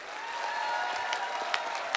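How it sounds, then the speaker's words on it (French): Steady applause from a Quebec TV studio audience, a dense wash of clapping with a few sharper claps standing out, continuous throughout. "j'en entends qui commencent à applaudir"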